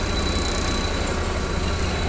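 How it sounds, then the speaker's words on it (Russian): A 1.5-ton petrol forklift truck runs with a steady, dense mechanical rumble and a faint metallic chain jingle mixed in, loud and continuous throughout. "цепь, по-моему, звенит."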